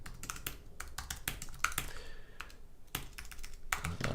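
Rapid typing on a computer keyboard, bursts of crisp key clicks in uneven clusters with short pauses, close and fairly quiet, no talk.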